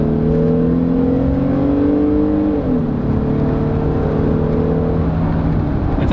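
A 2019 Jeep Wrangler Sport two-door JL accelerates hard from inside the cabin, its engine note rising steadily and then dipping briefly at a gear change before climbing again. The loud, continuous drone fills the whole stretch with no talking.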